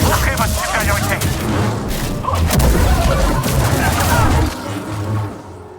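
Dense gunfire and blaster volleys from a Star Wars Jedi: Survivor battle, with booming impacts and crashes rolling on continuously for several seconds under game effects before easing off near the end.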